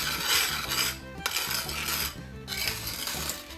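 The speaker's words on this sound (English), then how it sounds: "Keep stirring it." A spoon scrapes and clinks against a cast iron pan while half a cup of sugar is stirred on high heat, with steady metallic rattling and scraping that runs close and continuous with short pauses.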